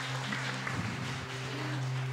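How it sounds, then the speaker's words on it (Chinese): A church audience at a Christmas evening service applauds in a steady, dense wash of clapping over a low hum, with no talk. "我们拍掌，把荣耀归给耶稣"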